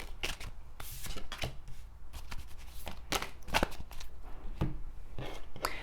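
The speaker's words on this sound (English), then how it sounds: "Let's keep shuffling." Tarot cards are shuffled by hand nearby, a continuous run of soft crisp riffles and slaps with irregular sharper snaps, fairly quiet.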